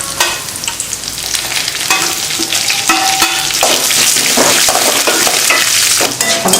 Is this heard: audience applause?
no